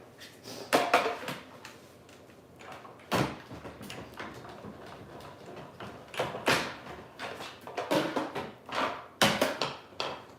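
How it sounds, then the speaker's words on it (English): Mechanical clunks, rattles and a cranking grind come from a manual die cutting machine cutting cardstock close by, in irregular bursts with short pauses between. "run this through my die cutting machine off to the side"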